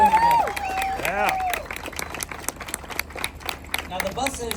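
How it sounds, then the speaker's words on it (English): An audience at KC Trends breaks into dense, sustained applause after a voice finishes speaking, with scattered cheers and voices mixed through the clapping. "How about a round of applause for Casey Trends for bringing us all together today?"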